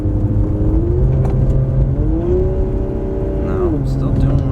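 A car with a 2JZ engine stuck in limp mode is driven on a test run, its engine droning loudly from inside the cabin and rising then falling in pitch as it accelerates and eases off.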